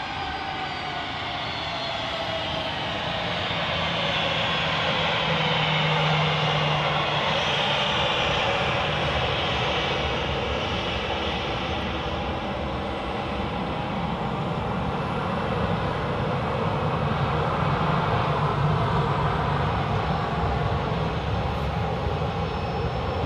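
A Scandinavian airliner taxis onto the runway at Manchester Airport, a steady, moderately loud jet engine whine and roar that lingers at a distance, with the rumble swelling slightly near the end.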